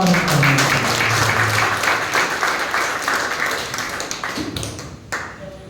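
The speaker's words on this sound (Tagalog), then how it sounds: "Palakpak mo ang Panginoon." A church congregation claps in a hall during a Sunday service, a loud burst of many hands that thins into scattered claps and fades out, with some murmuring underneath.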